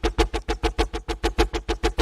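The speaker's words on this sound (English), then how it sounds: "One of the sounds is a super fast pew pew, as I like to call it." A super fast 'pew pew' synth patch from the Serum synthesizer fires rapid, evenly spaced zappy pulses, about six per second, bright and punchy throughout with no voices.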